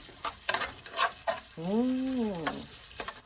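A pot of soup ingredients with lemongrass cooks on a stove set to about 7, giving a soft, steady hiss broken by small clicks, with a brief rising and falling tonal whine in the middle.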